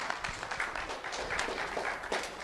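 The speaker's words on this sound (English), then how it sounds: "Round of applause for Alex Antonopoulos." A crowd applauds at a sheriff's office award ceremony honoring a student, a steady, fairly dense clapping that runs throughout at moderate loudness with no one talking.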